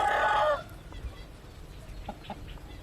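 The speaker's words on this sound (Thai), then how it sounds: "ไก่อยู่นี่" A chicken lets out a loud squawking cluck at the start, followed by quieter scattered clucks against a calm background.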